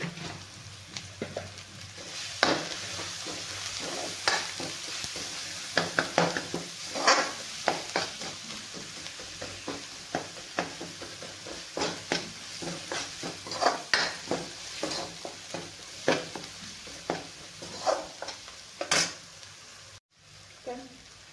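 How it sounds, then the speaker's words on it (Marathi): Tomato masala sizzles in a pan and gets stirred steadily, spoon scrapes and clinks of the utensil against the pan recurring over a continuous frying hiss, close up with no talking. "टोमॅटो मसाला चांगला एकदम भाजलेला आहे खरपूस."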